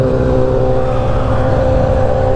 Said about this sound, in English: That motorbike is so loud.